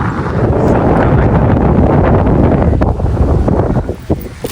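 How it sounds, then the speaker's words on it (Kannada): Strong gusting wind roaring loudly into the microphone, a steady rumbling buffet that eases slightly toward the end. "ಏನು ಗಾಳಿ ಬರ್ತಿದೆ ಗೊತ್ತಾ, ಫುಲ್ ರಭಸವಾಗಿ"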